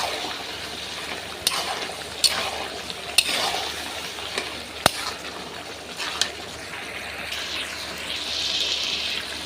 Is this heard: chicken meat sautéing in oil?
yes